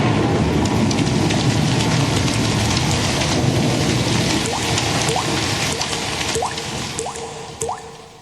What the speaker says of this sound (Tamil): இப்போது துளி துளியாய் மழை கொட்ட போகிறது.